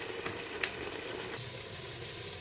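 Prawns sautéing in a pan for prawn biryani, cooking down until their liquid dries off, give a steady close sizzle with a soft frying hiss and faint stirring scrapes throughout.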